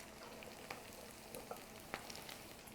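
Potatoes frying in a pan with golden onions and garlic, a steady soft sizzle with a few light pops and clicks, close and quiet.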